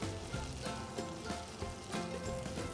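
Turnip slices sizzling in a hot frying pan, a steady crackling hiss with scattered pops, fairly soft and continuous with no voices over it.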